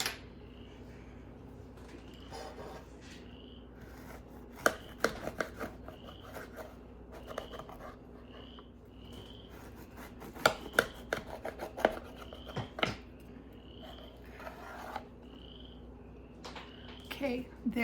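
A knife slices through a baked pizza loaf on a board, with repeated scraping and rasping cuts and crisp crust crunches, close and fairly quiet, broken by a few sharper taps.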